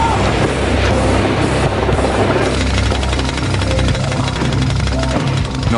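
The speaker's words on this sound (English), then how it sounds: "Nothing a jackhammer can't fix." A jackhammer pounds at concrete on a skyscraper construction site, a loud, continuous rattling hammering blended with heavy machinery rumble throughout.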